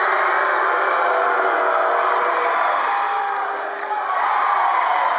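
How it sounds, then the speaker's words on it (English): A packed high school basketball gym roars during free throws, a steady, loud wash of crowd cheering and shouting that barely dips before swelling again. "Crowd's in a frenzy now."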